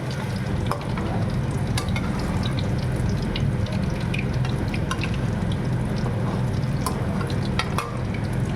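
Fish frying in hot oil, a loud continuous sizzle and crackle with small popping spatters, close up and without talk.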